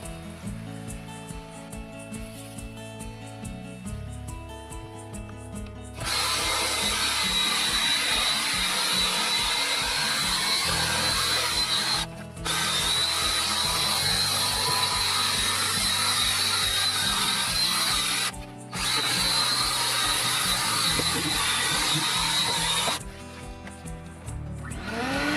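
Buff King brush machine scrubbing salt stains out of carpet, a loud steady motorized whir with brief pauses, starting after a stretch of background music that continues underneath.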